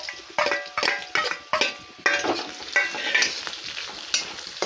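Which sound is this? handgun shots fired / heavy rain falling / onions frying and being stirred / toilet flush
onions frying and being stirred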